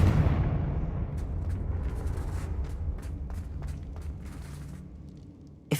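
Confringo fire spell explosion in Hogwarts Legacy, a deep rumbling blast that fades out slowly, followed by scattered crackling debris and a small thud at the end.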